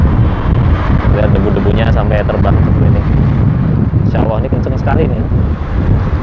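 Strong wind buffeting the microphone in Makkah after flooding, a loud continuous roar blowing dust, with someone talking over it.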